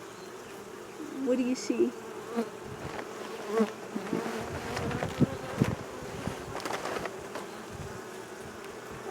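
Honeybees buzz steadily around an opened hive holding capped honey and brood, a close, continuous drone with bees passing near, while a person talks briefly.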